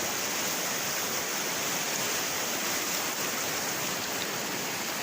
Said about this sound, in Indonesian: Gemericik air yang begitu indah menambah suasananya teman-teman sekalian.